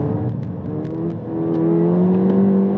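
A modified 2015 Ford Fiesta ST with Cobb and Mountune parts accelerates through corners, its engine whirring and rising steadily in pitch from inside the cabin, loud and continuous with faint clicks, no talking.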